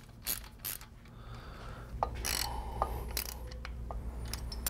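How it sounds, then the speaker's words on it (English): A ratchet wrench snugs bolts on a motorcycle with a Kuryakyn tappet block accent, giving close, rapid mechanical clicking in short bursts separated by brief pauses, with no talking. "Just gonna kind of snug these, and then I'll go back with the torque wrench and set the torque."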